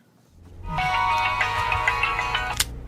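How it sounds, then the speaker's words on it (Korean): A telephone rings with a bright electronic ringtone that starts after a moment of quiet and continues steadily, a loud and close pattern of repeating tones with no talking over it. "대법원을 등진 정봉주에게 전화가 온다"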